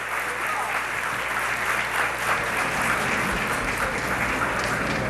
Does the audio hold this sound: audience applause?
yes